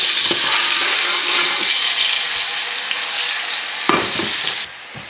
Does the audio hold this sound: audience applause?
no